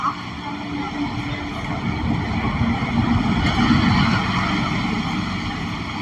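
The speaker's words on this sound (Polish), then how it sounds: "Kolejny autobus." A bus passes by on a road, a loud, continuous engine rumble and tire roar that swells slightly in the middle before holding steady, heard close by.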